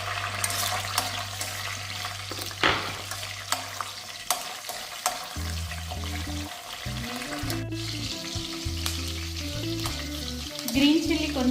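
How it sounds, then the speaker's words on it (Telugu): Green chillies and curry leaves fry in a pan with a steady, close sizzle, while occasional scrapes and clinks of stirring break through. "తర్వాత గ్రీన్ చిల్లీస్ వేస్తూ ఉన్నా."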